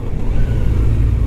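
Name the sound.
stock motorcycle engine revving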